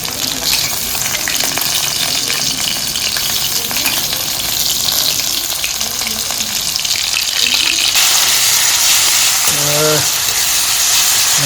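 Masala sizzling and frying in a pan for a river prawn curry, a continuous loud hiss with occasional stirring scrapes, brief speech over it.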